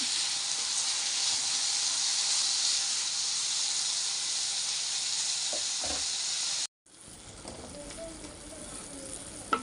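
Chopped tomatoes cook in a pan for pav bhaji, giving a loud, even hiss and sizzle that stops briefly, then resumes as a softer bubbling with faint stirring.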